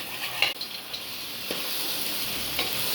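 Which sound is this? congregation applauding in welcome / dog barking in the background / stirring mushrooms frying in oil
stirring mushrooms frying in oil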